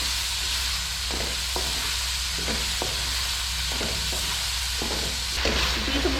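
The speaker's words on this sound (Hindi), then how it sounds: "मसाला अच्छी तरह फ्राई हो चुके हैं और हम इसका ऑयल निकल गया है" Spice masala of red chilli, turmeric and garam masala frying in oil for a village-style yakhni pulao, a steady close sizzle broken by periodic stirring scrapes.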